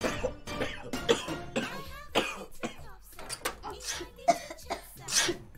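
Someone nearby coughs repeatedly in short, harsh bursts, mixed with throat clearing, in an uneven rhythm.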